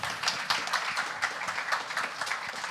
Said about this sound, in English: I want to invite you to give them the warm applause